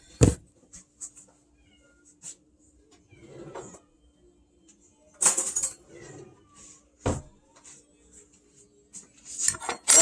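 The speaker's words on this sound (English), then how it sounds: "Hold on, I hear a cat somewhere." A pet cat named Harley Quinn meows several times in short, separate calls indoors, with faint clinking of dishes and kitchen sounds in between and no talk.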